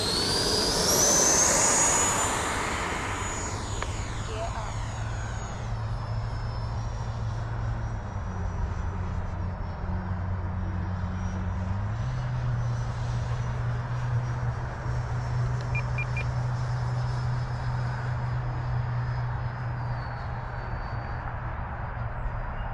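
An FMS Super Scorpion 90mm V2 electric ducted fan RC jet flying: a loud, high whine sweeps past early on, then settles into a sustained airy roar with a steady humming drone underneath.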